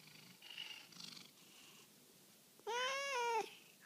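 A domestic cat purrs softly in rhythmic pulses, quiet and close, then lets out a single short, clear meow.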